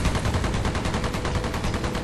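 Continuous rapid gunfire from weapons in the video game Earth Defense Force, a dense, loud, unbroken stream of shots filling the whole moment with no pauses.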